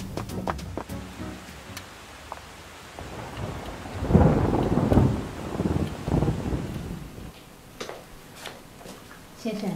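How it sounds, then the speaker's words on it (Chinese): Thunder rumbles loudly in the middle of the clip, swelling and fading over steady rainfall, with brief speech near the start and a few sharp sounds around it. "啊，下雨了"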